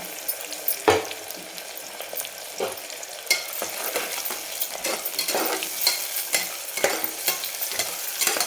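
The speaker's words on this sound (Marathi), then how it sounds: "थोडासा असा चोळून टाकायचा, म्हणजे पटकन तळला जातो कांदा" Chopped onion fries in a pan for a spicy mutton masala curry, sizzling and crackling steadily throughout as it is stirred and turned, with a few sharper scraping clatters standing out near the start.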